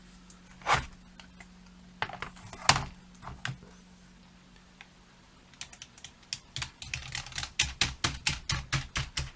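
Keys clack on a repaired computer keyboard under test, a few scattered presses followed by a quick, steady run of loud, close keystrokes.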